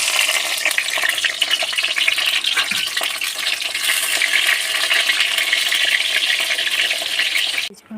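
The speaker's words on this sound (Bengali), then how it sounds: "পটলগুলো ভেজে নেব" Pieces of pointed gourd (potol) fry steadily in hot oil in a home kitchen, a continuous loud sizzle with crackling bursts that runs nearly unbroken before dropping away at the very end.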